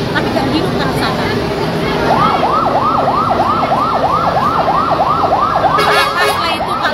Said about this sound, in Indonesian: Itu kan udah datang pemadam satu lagi.